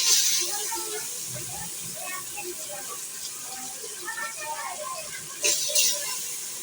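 Broken rice tipped into a pan of ginger-garlic paste and a little turmeric starts a steady, soft sizzling hiss that continues throughout, with a brief louder burst near the end.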